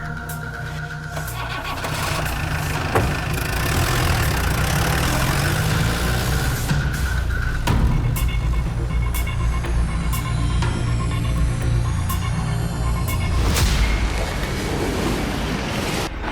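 A scooter engine runs steadily at idle, a constant close rumble with broadband noise throughout, alone with no talk.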